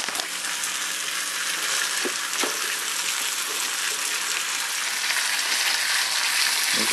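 Turkey bacon fries in a pan with a steady, dense sizzle and spitting crackle that holds evenly for the whole stretch, close and fairly loud, with no voices.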